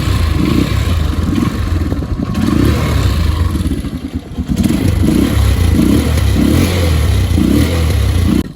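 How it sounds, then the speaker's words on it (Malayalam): A Hero Honda Karizma R motorcycle idles loudly at close range with a steady, throbbing single-cylinder beat, dips briefly and then settles back into a strong, even rumble. "ഞാൻ സ്റ്റാർട്ട് ചെയ്ത് കാണിച്ചു തരാം"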